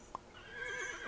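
A horse whinnies briefly in a video game, a short high cry near the start followed by a continuous game-music or ambient tone bed, with no voices.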